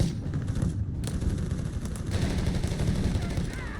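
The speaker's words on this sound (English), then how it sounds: "BARs versus MG34." BAR rifles trade fire with an MG34 machine gun in the strategy game Company of Heroes 3, a dense continuous clatter of automatic bursts and shots with a faint voice underneath.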